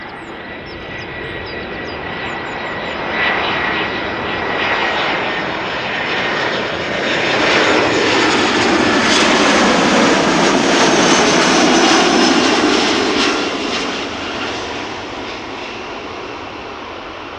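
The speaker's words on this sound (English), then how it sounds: "Croatia Airlines arriving from Zagreb, flight 450, flight time 1 hour 39 minutes, A319, 12 years old." A 12-year-old Croatia Airlines Airbus A319 jet arriving from Zagreb at Amsterdam Schiphol Airport, a loud, close engine roar that swells as it passes overhead and then slowly fades, heard alone without talking.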